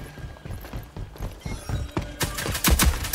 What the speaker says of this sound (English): Loud ass footsteps.